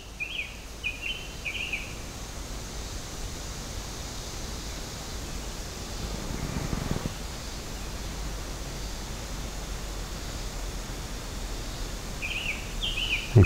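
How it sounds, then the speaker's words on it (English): Faint, sparse bird chirps in a quiet rural setting, a few short calls near the start and again at the end, set against a steady wash of breeze through trees. "So I'm going to be quiet and let you hear the birds chirp just a minute."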